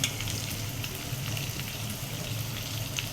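Beef liver fries in hot oil in a pan while being cooked down for a spiced bhuna, giving a close, steady, dense sizzle with faint stirring scrapes throughout.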